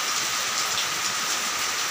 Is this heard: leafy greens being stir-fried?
no